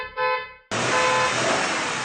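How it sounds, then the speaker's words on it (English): A car horn honks nonstop on a highway as the vehicle swerves close, a loud sustained blare with a brief gap near the start, heard alone without any talk. "The car swerved closer, honking nonstop"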